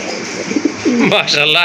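Pigeons coo in a short, soft burst of low rolling calls, close by, with a voice faintly in the background.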